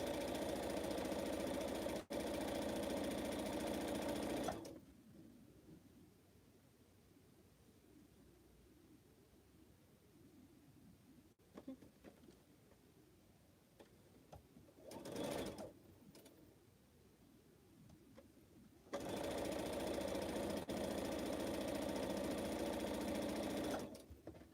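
A sewing machine sews pineapple quilt blocks in long, steady runs at the start and end, loud and close, with a quieter stretch of small handling noises in between.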